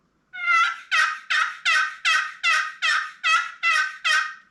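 A wooden turkey box call run by hand imitating hen turkey yelps: about ten sharp, evenly spaced raspy notes in a steady rhythm, loud and close, after a brief silent start.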